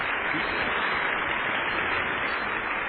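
A church audience bursts into hearty applause during a sermon, a dense, even wash of clapping that holds steady and loud without pause.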